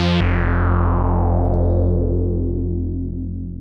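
Stock Bass Sewer patch on the Mini V soft synth plays a single sustained low bass note, rich in buzzy harmonics that slowly darken as the note fades, loud and alone with no talking.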